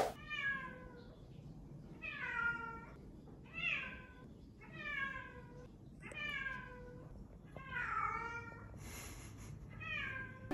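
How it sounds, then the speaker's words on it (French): A cat meows repeatedly, about seven drawn-out, rising-and-falling calls spaced a second or so apart, close and clear over a low background hum. "on vous montre une démonstration des miaulements de Rio"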